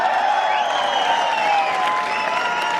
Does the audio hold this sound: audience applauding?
yes